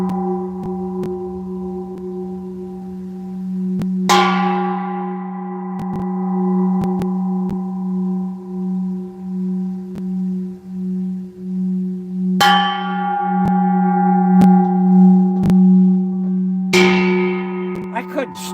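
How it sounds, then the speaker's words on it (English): A regular cooking pot is struck three times, each hit ringing out like a church bell with a long, humming resonance that slowly fades between strikes, while someone talks over it. "I have a pot that makes a great sound. Listen to this pot."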